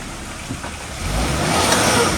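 A Suzuki Jimny stuck on an off-road hill trail, its engine revving and rising in strain over a couple of seconds, steady and fairly close, with a low rumble building toward the end.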